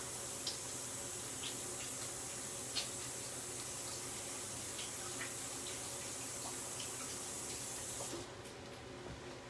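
Steady hiss of a kitchen tap running into a sink during washing up, constant and close, with faint clinks scattered through and the flow easing off near the end.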